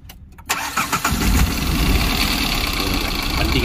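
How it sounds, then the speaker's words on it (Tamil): Tata diesel engine with a Delphi CR4 common-rail system cranks briefly after a short quiet moment, catches, and settles into a loud, steady rumbling idle with a knocking undertone, close up. "இப்போ என்ன பண்ணுறோம், வண்டியை ஸ்டார்ட் பண்ணுறோம்."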